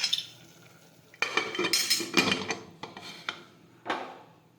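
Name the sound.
closing the pressure cooker lid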